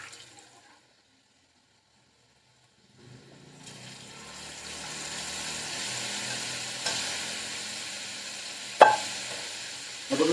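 Chana dal and urad dal frying in a spice tempering give a soft sizzle that rises after a quiet start and holds steadily, with a couple of sharp scraping knocks from stirring near the end and no talk.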